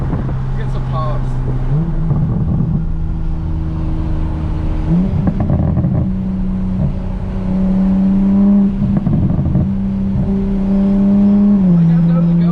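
A Toyota MK5 Supra with a Tomei Type-R single-exit exhaust drones and revs in bursts with rough crackling pops, heard from inside over wind noise and occasional talking.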